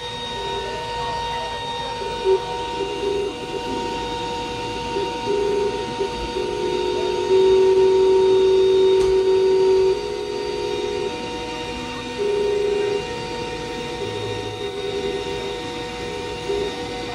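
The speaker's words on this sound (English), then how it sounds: "Here we go, cutting." A Glowforge Pro laser cutter runs through a long shark cut with a steady mechanical hum and fan whir, plus faint tonal whines that come and go. No one speaks.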